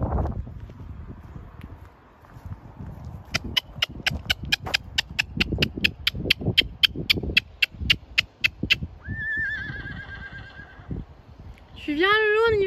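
A horse and a small pony outdoors, hooves clip-clopping in a quick regular rhythm on hard ground, then loud, close neighing and whinnying at the end.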